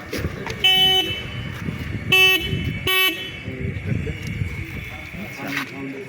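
Three short horn toots from a Hero Xtreme 125R motorcycle, close and loud, the last two in quick succession, over a low idling engine and faint background chatter.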